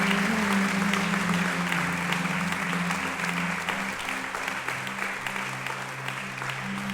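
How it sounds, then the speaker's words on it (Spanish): Church congregation giving loud, sustained applause during a sermon, dense steady clapping throughout with a low hum of instruments or voices underneath. "¿Alguien le puede dar gloria con un fuerte aplauso a Jesús?"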